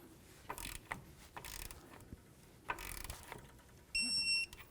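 A ratchet wrench snugs the outer tie rod nut onto the front steering knuckle of a 1998-2002 Honda Accord: a few scattered, quiet clicking bursts near the mic, followed by a short electronic beep at the end.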